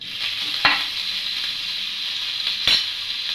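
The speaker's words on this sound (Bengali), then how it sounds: "আদা, রসুন, লঙ্কাটাকে একটু ভালোভাবে 2 মিনিটের জন্য নেড়ে চেড়ে ভেজে নিয়েছি" Ginger paste, garlic paste and chopped green chili frying in hot oil make a steady, bright sizzle, and two sharp spatula strokes stand out above it.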